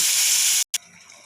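Prawns sizzle loudly in hot spiced oil with a bright, hissing fry that cuts out abruptly. A short burst follows, then a fainter crackle.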